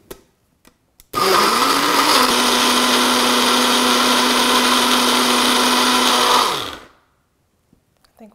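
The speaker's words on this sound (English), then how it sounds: "We're gonna go ahead and puree." A blender purees fire roasted tomato soup with garlic, starting abruptly into a loud, steady whirring roar that holds for about five and a half seconds before winding down and stopping, with brief clicks before and after.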